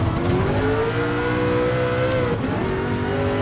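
Muscle car engine in the Gran Turismo Sport racing game, a loud continuous roar holding a steady pitch with a slight rise and dip, close and dominant with no talking.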